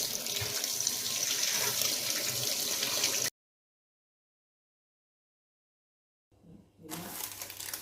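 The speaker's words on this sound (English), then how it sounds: "use a sponge to clean it off and wash it with water" Tap water runs steadily into a sink while an oily bowl is rinsed, broken by a few seconds of silence before the flow resumes.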